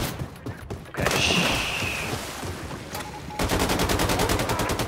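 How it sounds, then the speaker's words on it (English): Rapid automatic gunfire from the shooter game Wolfenstein II: The New Colossus, a loud sustained burst that starts abruptly and continues steadily, with a second rattling volley toward the end. "Who's shooting me?"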